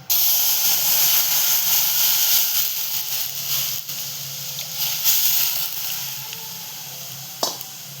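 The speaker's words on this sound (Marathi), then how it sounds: "दूध उकळायला ठेवूया." Milk heating in a pot for makhana kheer, a steady loud hiss like steam and faint sizzling that slowly eases, with a single sharp clink near the end, close and with no talk.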